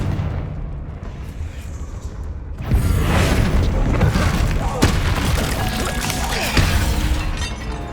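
A Confringo blasting spell explodes in the Hogwarts Legacy video game, a loud broadband burst that breaks in suddenly and then rolls on as a sustained, crashing rumble with a sharp crack partway through.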